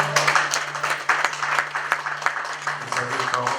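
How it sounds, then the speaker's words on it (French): Church congregation applauding at a worship service, a dense patter of clapping under a steady hum, with voices mixed in throughout. "Et puis on acclame le Seigneur très fort."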